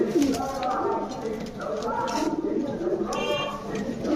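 Giribaz pigeons, a high-flyer breed, coo in soft, rolling, repeated calls close by, and people talk over the birds throughout.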